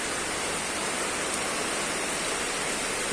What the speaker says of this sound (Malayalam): എന്തായാലും നല്ല കാറ്റും മഴയാണ് അടിക്കുന്നത്